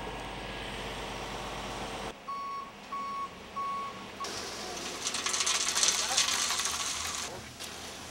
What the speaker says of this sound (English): We're ready to back up the truck and start pouring.